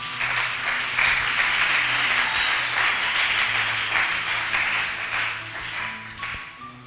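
A church congregation applauds steadily and fairly loudly for several seconds, a dense wash of clapping that fades slightly toward the end.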